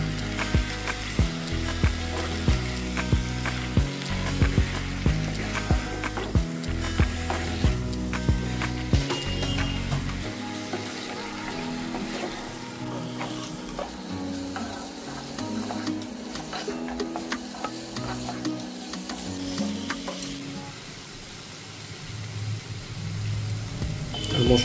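Turmeric and cumin powder being stirred and fried in a pan for a Bengali chicken curry, a steady sizzle with rhythmic scraping of the spoon across the pan, fairly close and without talk.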